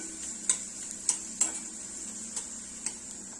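Onion sautéing in a pan for matki masala: a quiet, steady sizzle broken by a few sharp clicks of the spatula against the pan, close up with no talking.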